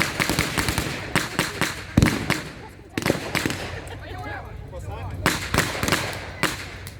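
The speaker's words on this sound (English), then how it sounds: "Some of the parachute regiments now are using their bolt action 303s, as you know, commonly used in the Second World War." Bolt-action .303 rifles and other small arms fire at a WW2 battle reenactment, with sharp cracks and pops arriving in irregular clusters, some overlapping, amid outdoor crowd noise and a commentator's voice.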